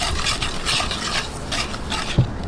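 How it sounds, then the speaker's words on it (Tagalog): A mixture of all-purpose flour, vanilla and a pinch of salt stirred in a bowl, giving a steady close scraping and swishing of utensil against the bowl with a small knock near the end. "Haluin lang po natin."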